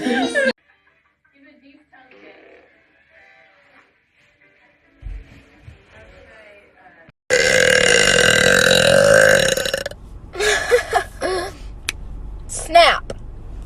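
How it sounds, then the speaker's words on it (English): A loud, long, close burp from a woman rumbles for about three seconds after quiet stretches, followed by short bursts of talk and laughter. "burp."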